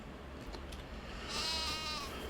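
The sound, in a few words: sheep bleating in a farming video game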